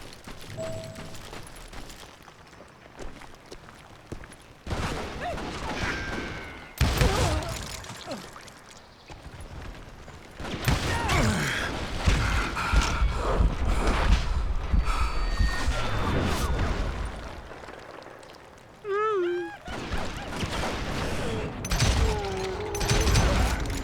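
Rifle gunshots in the Western shooter game Call of Juarez: Gunslinger, sharp loud bursts scattered among in-game effects and music, with someone talking over parts of the action.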